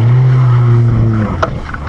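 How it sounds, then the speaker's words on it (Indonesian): A Suzuki Jimny climbs a steep off-road incline at full throttle, its engine holding a loud, steady drone that drops away toward the end, followed by a few short knocks and bumps. "Kami tidak mau di winch, jadi kami gaspol karena tanjakan-tanjakan macam ini butuh momentum."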